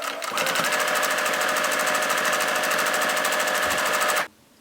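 A sewing machine top stitches the folded edge of a fabric face mask, running in one steady, fast continuous burst for about four seconds before stopping abruptly, close and alone.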